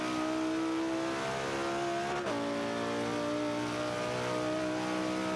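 A 2005 Honda NSX-R in Forza 5 accelerates with a loud, continuous engine whine that climbs in pitch, drops sharply at a gear shift, then builds again with no talk over it.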